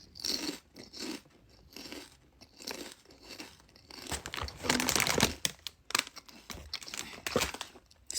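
Chips crunch in irregular bursts of biting and chewing, close to the mouth, with rustling packet crinkles in between and no speech over it.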